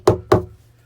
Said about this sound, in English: Good gracious, it sounds as if somebody's at the door, said Joe.